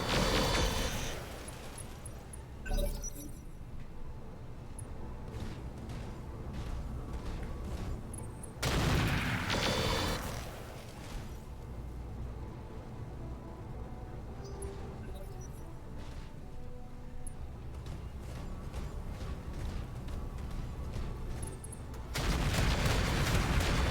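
Autocannon fire from a BattleTech mech in the Roguetech mod, heavy booming bursts at the start, middle and end over a constant rumbling battle bed, with talk running beneath.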